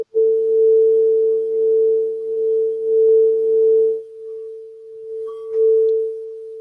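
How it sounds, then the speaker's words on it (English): Crystal singing bowl being played, giving a steady, pure sustained tone that holds loud and even for several seconds and briefly swells with a faint higher ring near the end, with no talking. "It's a crystal singing bowl."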